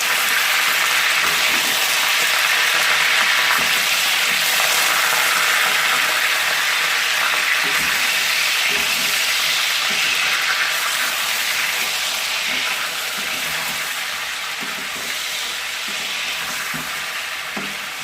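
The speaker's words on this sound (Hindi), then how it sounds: "इसमें अब चिकन शामिल करते हैं। और इसको अच्छी तरह से फ्राई कर लेते हैं।" Chicken frying in a karahi pan for Shinwari chicken karahi, a steady loud broadband sizzle that holds throughout with occasional stirring scrapes and no talk.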